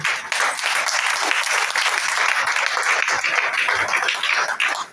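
Church congregation at a French-language service breaking into steady applause, dense continuous clapping filling the room for several seconds, no speech over it.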